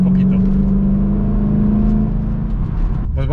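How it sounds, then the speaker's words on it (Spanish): A 2007 Ford Mustang Parnelli Jones V8 revs loud and close, holding a steady throaty drone that swells and eases, with a voice briefly audible underneath. "El sonido del coche, a pesar de que hay mucha gente que no le gusta este tipo de sonido, nosotros pensamos que es como rock and roll"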